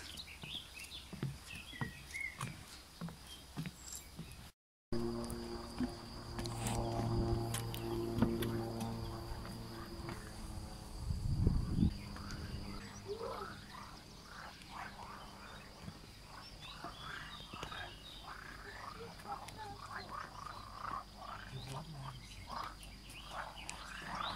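A loud chorus of frogs croaks continuously in a Swiss village, layered pulsing calls rising and falling, with a brief dropout and a low rumble partway through.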